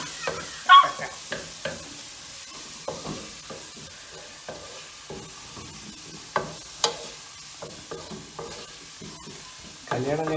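Onions fry in a pan for a chicken curry, giving a low sizzle under repeated clattering stir strokes and scrapes, some sharp and loud, with a busier burst of stirring at the end.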